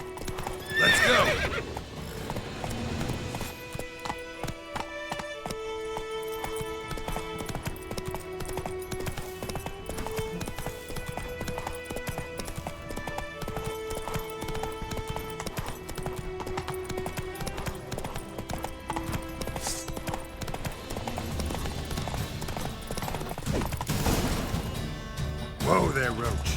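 Roach the horse gallops in The Witcher 3, with hooves clip-clopping and a whinny over constant game music, plus loud crashes near the start and end.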